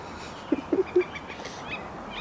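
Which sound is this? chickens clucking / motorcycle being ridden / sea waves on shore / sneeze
chickens clucking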